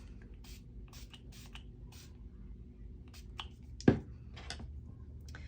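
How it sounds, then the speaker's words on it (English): Water is spritzed from a spray bottle onto a Schmincke watercolour palette in a series of quick, soft hissing puffs, fairly close, with one sharper knock partway through in an otherwise quiet room. "And let me just spray these."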